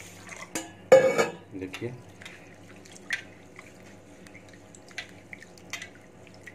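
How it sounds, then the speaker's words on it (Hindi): Rice is washed by hand with water in a pot, giving sparse splashes, drips and light clinks of grains and metal, with a brief spoken word early on. "चावल को मैंने ऐसे ले लिया, अब इसको हम लोग अच्छे से धोएंगे"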